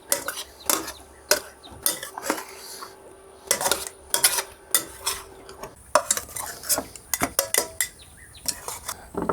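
Cooked egg dish being scraped and served onto a plate, with repeated sharp clinks and scrapes of a utensil against cookware, irregular and close, with no talking.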